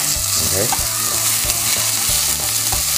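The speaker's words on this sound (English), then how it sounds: "I'm gonna add the ground pork" Ground pork fries in a pan alongside ginger over moderate heat for mapo tofu, a loud, dense sizzle with scraping stirs throughout.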